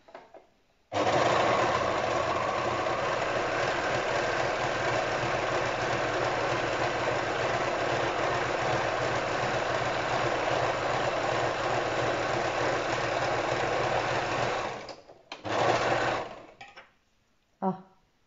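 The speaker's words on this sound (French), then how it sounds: "je vais passer au surjet. Donc, moi, je vais assez vite avec la surjeteuse" An overlock serger runs fast and loud in one continuous whirring stretch of about fourteen seconds, then stops, gives a brief second burst and falls quiet.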